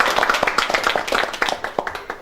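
A crowd claps for the hosts at a Kazakh matchmaking feast, with dense, quick, overlapping hand claps running steadily for a couple of seconds.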